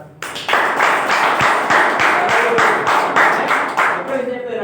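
A crowd at a business presentation claps in a steady, even rhythm, loud and close, with the beats continuing for several seconds.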